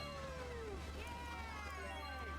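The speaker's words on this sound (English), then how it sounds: "My cat has returned." A house cat meows in a long drawn-out call, fairly close and clear over a steady low background hum, with a second rising meow following.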